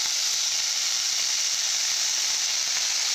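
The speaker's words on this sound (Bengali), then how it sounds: "ভালো করে ভেজে নেব।" Okra frying in a pan with a little turmeric, giving a loud, steady, dense sizzle that runs evenly throughout with no pauses and no voices.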